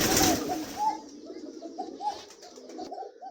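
Fancy pigeons loose inside a room give repeated soft, throaty coos in an uneven sequence close by, after a brief burst of rustling or flapping at the start.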